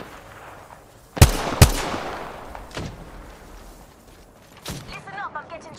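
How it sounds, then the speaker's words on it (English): Gunfire in the Apex Legends video game: a few sharp, loud shots ring out close by in quick succession, followed by a softer burst later, with game sounds in the background. "Listen up, I'm getting shot at."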